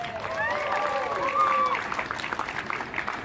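A street-performance crowd at Quincy Market in Boston claps for two volunteers, a steady mid-distance applause mixed with a few raised, whooping voices.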